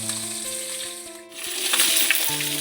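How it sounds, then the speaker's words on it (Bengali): Fresh pond fish fry in hot oil, giving a steady hiss that swells into a louder, crackling sizzle partway through, close up with a faint tonal music bed underneath. "এই মাছগুলো ভাজা হয়ে গেছে,"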